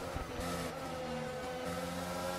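A Formula 1 race car in the F1 22 racing game holds a loud, steady high-pitched engine drone, with a thin edge of tire squeal as it slides through a corner.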